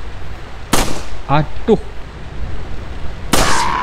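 Two sharp gunshot bursts from a PS2 Resident Evil 4 video game, one near the start and one near the end, with a short exclamation from a man in between.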